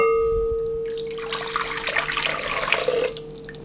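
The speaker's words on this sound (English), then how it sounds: "I'm going to pour it into our bowl." Melted liquid for St Lucia buns, a saffron yeast bread, poured into a bowl, a steady close splashing trickle that swells for a few seconds over a faint hum.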